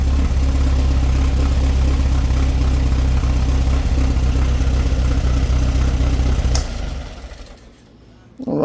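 A 1967-era engine fitted with a Holley 2110 "Bug Spray" carburetor idles loudly and steadily up close with a deep rumble, then is shut off near the end, leaving near silence before faint noise returns.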